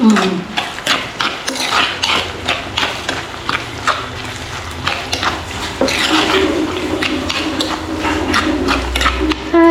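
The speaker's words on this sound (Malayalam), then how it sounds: "ഇതൊന്ന് നല്ലതുപോലെ ഇളക്കി യോജിപ്പിച്ച് കൊടുക്കാം." A spoon scrapes and knocks steadily against a home kitchen cooking pot as a browned prawn dish with coconut pieces is stirred, in a brisk, repeated rhythm with no talking.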